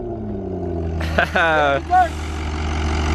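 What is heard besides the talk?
gutted Mitsubishi Eclipse car engine running without exhaust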